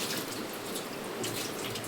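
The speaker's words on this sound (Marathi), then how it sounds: "हे बघा एवढं पाणी पण चालू आहे नळाला" A kitchen tap running at full flow into the sink, a loud, steady hiss of water close by with no talk.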